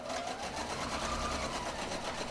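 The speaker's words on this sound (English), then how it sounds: "Put your foot down, start sewing, secure my stitches, back stitching" A sewing machine stitches fabric with a twin needle, running in a steady, fast rhythmic whir at moderate volume with no talking.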